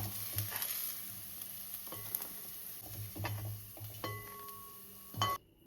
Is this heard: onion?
yes